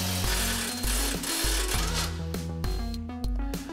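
Mechanical clicking and ratcheting from a tool working on the fuel tank strap of a 2004 Dodge Ram truck, a steady run of close, loud metallic clatter with repeated short bursts and no talking.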